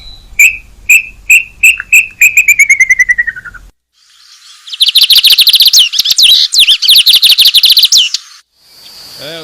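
Birds from the dry sertão backcountry chirp loudly and close: a run of sharp repeated whistled notes speeding into a trill, a short pause, then a long bright rapid chattering burst and one final call.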